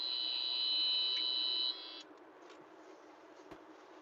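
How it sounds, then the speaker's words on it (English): Steady electronic tone from a radar detector inside a car, loud for about two seconds before cutting off, leaving low road and cabin noise with a faint click near the end. "Shut up, radar detector."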